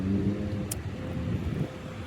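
Busy bus stop traffic: a steady, close, low engine rumble and roadway roar fills the scene continuously, with a brief hiss partway through.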